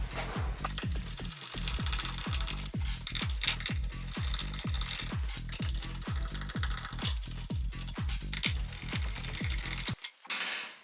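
A screwdriver backs screws out of a switch and receptacle combination, producing a steady rapid series of close, even ratcheting clicks that continue for about ten seconds without speech.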